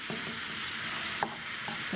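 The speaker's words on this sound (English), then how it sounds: "Got a little bit of a sizzle going on there" Chicken breast sizzles steadily in a frying pan, a constant hiss with occasional scraping and stirring knocks, close by and with no talking.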